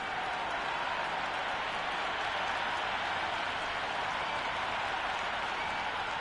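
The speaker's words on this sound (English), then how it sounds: "already the crowd is up and about" Simulated crowd at a cricket match between India and England in a video game, a steady broadband roar of cheering and clapping that holds evenly throughout with no clear breaks.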